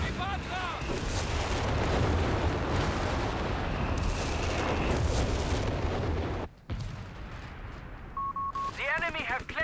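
Pyrotechnic grenades burst among dense artillery and gunfire in a Company of Heroes 3 match, a continuous loud barrage of booms and rumbling explosions, with game voice lines sounding near the end.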